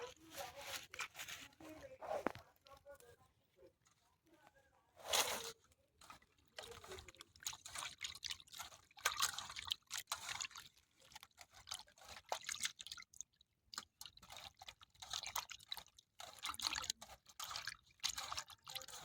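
Water is poured into a cooking pot in a village kitchen, faint trickling and splashing with scattered clatter and a voice nearby.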